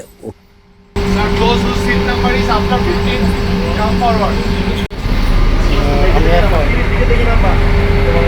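An airport shuttle bus at Dhaka airport carries passengers out to a plane, giving a steady, close engine rumble and cabin hum that runs without a break under continuous talking.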